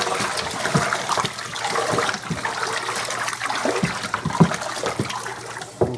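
Warm water sloshes and trickles as sugar is stirred into five gallons for an apple brandy mash, with irregular splashes and soft knocks against the container close by.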